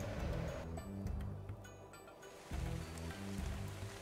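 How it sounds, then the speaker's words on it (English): Rain pours steadily in a survival video game, a soft, constant hiss under low rumbling game sounds, with no talk over it. "'Tis raining!"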